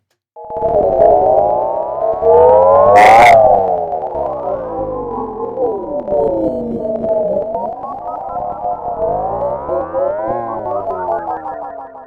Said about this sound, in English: Let's go wave folding.